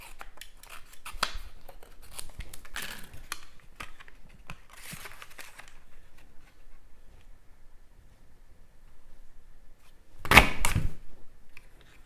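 Paper is trimmed for a Paper Pumpkin card with several light, scattered snips and rustles. A sharp, loud cutting burst comes close up near the end, and no one talks.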